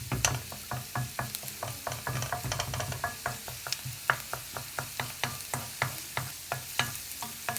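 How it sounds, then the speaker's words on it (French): Onions sizzle and fry in a deep pan while being stirred, a steady crackling hiss broken by a rapid, regular series of scraping utensil strokes, close and fairly loud with no voices. "les oignons, faut les laisser jusqu'à qu'ils caramélisent un peu"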